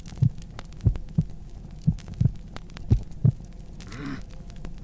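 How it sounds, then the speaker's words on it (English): Slow, heavy heartbeat thuds pulse at irregular intervals, deep and muffled, about eight beats in quiet with a faint hum beneath and a brief rumbling swell near the end. "Count your heartbeats again."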